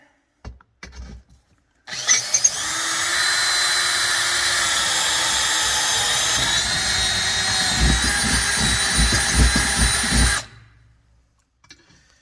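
A power drill whirs steadily for several seconds, loud and near, then bites in with rapid grinding pulses drilling holes through carpet for a mirror bracket on a Peterbilt 379, stopping, with faint clicks before and after.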